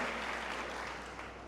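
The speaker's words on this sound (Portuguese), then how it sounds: "Você pode aplaudir a vida deste meu amigo aqui? Aplauda ele, honra a vida dele." A church congregation applauding a man, a dense wash of clapping that holds steady and eases off slightly over a short stretch.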